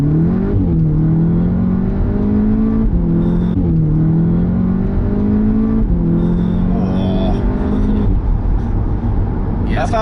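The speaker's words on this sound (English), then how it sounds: "This Audi S3 has a 2-litre 4-cylinder turbocharged engine producing 296 brake horsepower" A 2-litre turbocharged four-cylinder Audi S3 producing 296 horsepower accelerates hard down a slip road, engine rising loudly through several gear changes as heard from inside the cabin, with people talking over it.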